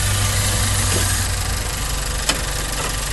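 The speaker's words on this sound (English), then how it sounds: "It's got a turbocharged four-cylinder engine." A turbocharged four-cylinder engine in a 2011 Nissan Juke SV idles steadily and close by, a constant low hum with a faint tick partway through and no talk.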